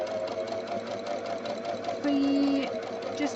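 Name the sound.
sewing machine stitching handmade ribbon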